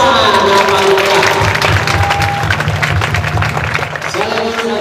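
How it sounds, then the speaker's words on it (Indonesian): Audience at a National Children's Day 2025 school ceremony at SMK Negeri 1 Rembang, Purbalingga, applauding loudly and continuously, a dense wash of clapping blended with voices and a sustained tone over the whole stretch. "Tepuk tangan yang paling meriah."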